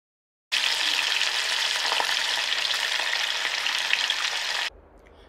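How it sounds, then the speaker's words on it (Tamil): Fish frying in a pan of hot oil, a loud, dense, steady sizzle that starts abruptly, holds evenly for about four seconds, then drops away to a quiet low hum. "இப்போ அடுத்ததாக வந்து நம்ம மீன் வறுக்க ஆரம்பிச்சிடலாம்."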